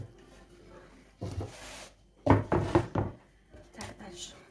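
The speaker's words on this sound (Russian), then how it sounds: "Сейчас буду нарезать." A knife cuts rolled chak-chak dough on a wooden board, giving soft knocking thuds in short clustered bursts close by, with faint background noise between cuts.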